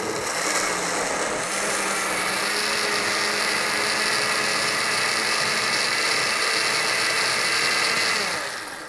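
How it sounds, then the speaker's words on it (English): A blender whirs steadily at full speed, pureeing fresh tomatoes for gazpacho, a loud continuous grinding drone close by that runs nearly nine seconds before winding down. "Let's go ahead and try and blend that up real quick just so we can get some space made in here"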